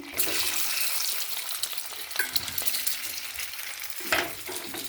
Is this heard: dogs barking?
no